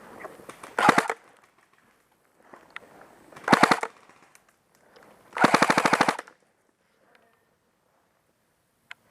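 An airsoft gun fires in three rapid bursts of rattling shots during an outdoor airsoft game, each burst short and close with quiet gaps between, the last burst the longest.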